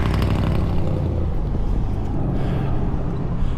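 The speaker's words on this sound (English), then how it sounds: "Here comes a really loud car." A loud car roars past close by, a dense, steady rumble of engine and road noise that fills the whole moment and eases off only slightly toward the end.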